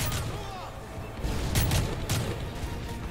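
Gunfire in the video game Call of Duty: Modern Warfare 3, with a few quiet, muffled shots and bursts set back in the mix over a low rumble.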